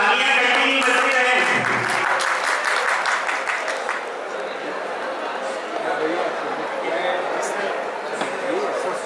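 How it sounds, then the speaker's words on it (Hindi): An audience at a numismatic and philately show in Kota claps steadily, sustained applause after a brief voice at the start, continuing evenly through the whole stretch. "ये तालियां कंटिन्यू बजती रहे।"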